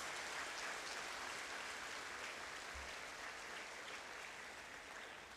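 An audience gives a big round of applause for nursing students at a record-breaking milestone celebration, a continuous wash of clapping that is fairly faint and distant and fades slightly toward the end.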